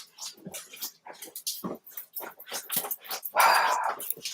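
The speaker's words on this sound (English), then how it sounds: "Chill out, doggies. I'm coming. I'll let you in." Pet dogs barking and whining indoors, close and fairly loud in a run of sharp, uneven bursts with a louder stretch near the end.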